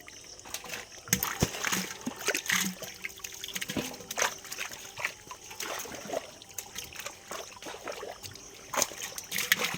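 Splashes and trickling water as fish are tossed into a pond, a run of irregular wet slaps and drips close by, with scattered quieter rustles between them.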